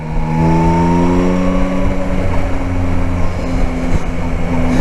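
Yamaha Tracer 9 GT 2021 motorcycle being ridden, its engine holding a steady loud drone with rising harmonic tones as it accelerates, wind noise over it, no talking.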